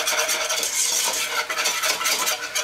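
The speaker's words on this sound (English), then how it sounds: "we're gonna use the whisk again because the last thing we want is lumps" A whisk beaten briskly through flour in a pot for chicken and dumplings, making a rapid, continuous, close scraping and swishing with no talking.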